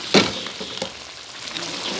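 Cooked rice hits a hot pan for biryani, setting off a sharp sizzle at the start that settles into a steady frying crackle with faint stirring scrapes.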